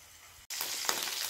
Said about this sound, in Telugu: బాగా వేగాలి జింజర్ పేస్ట్